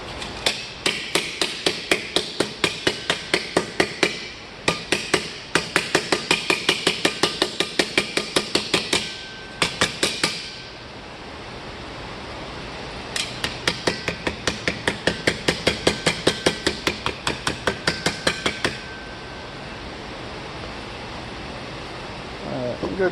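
Repeated hammer blows on a domed aluminum armor plate, rapid bursts of sharp metallic strikes in quick regular rhythm, pausing briefly between runs, loud and close.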